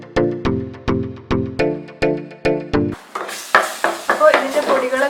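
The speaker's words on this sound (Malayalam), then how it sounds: "അപ്പോൾ ഇത് 1-2 മിനിറ്റ് വഴറ്റിയെടുക്കണം, ആ ഒരു പൊടീൻ്റെ പച്ചമണമൊക്കെ മാറുന്നത് വരെ." Spice powders sautéed in a pan for a Kerala-style crab curry: after a run of evenly spaced, ringing musical tones, repeated scraping stir strokes sound close up over a soft sizzle.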